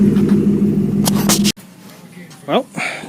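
A Porsche 928 with a swapped-in 5-speed manual idles with a steady, low engine drone. The sound cuts off abruptly midway, and a nearby voice then speaks briefly.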